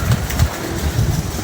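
Pigeons coo close by in short, low, throaty bursts that repeat several times over a steady background hum.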